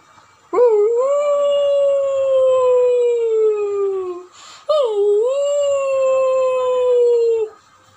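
A voice imitates a fox howling at night, giving two long, loud, wavering howls that rise and then slowly fall, separated by a short break.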